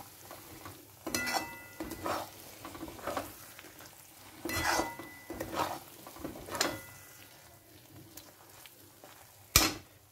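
Methi matar malai curry is stirred in a pan, giving repeated scraping strokes of a spoon over a soft sizzle, with several distinct stirs and one sharp clink near the end; nobody talks.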